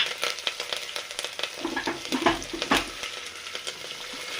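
Asafoetida and curry leaves hit hot oil for a khichdi tempering, bursting into a sharp crackling sizzle with dense spits and pops, close up, with a louder flare near the middle.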